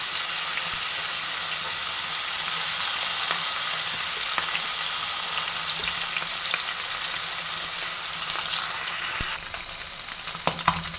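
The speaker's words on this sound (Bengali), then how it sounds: "হালকা করে ফ্রাই করে নেব।" Rohu fish pieces frying lightly in hot oil, a dense, steady sizzle with scattered crackles and pops throughout, close and continuous, with no talking.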